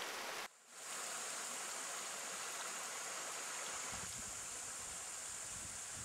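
Bicazul Brook rushes through the Bicaz gorges in Romania's Carpathians with a steady, broad wash of flowing water. After a brief near-silent dip at the start, the stream continues unbroken and moderately close.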